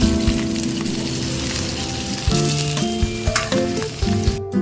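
Monitor lizard meat for adobo sizzles and fries loudly in a pan with garlic and onion, a steady crackling hiss with low tonal hum throughout and a few sharper pops near the end.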